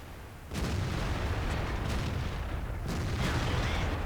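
A tank cannon firing in a tank battle game, a sudden heavy boom after a quiet start, then a sustained roar of rumbling battle noise with further faint shots.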